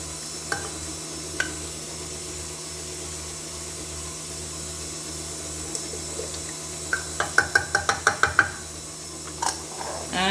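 Banana bread batter being mixed in a bowl: a soft, steady stirring background, then a quick run of rhythmic taps and clicks close by.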